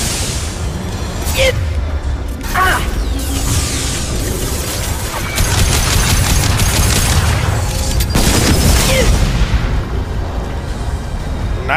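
Heavy weapons fire in the video game Mass Effect 2 during a combat mission, a dense and continuous roar of booms and blasts with sharp impacts throughout, loud and close, while a voice talks over it.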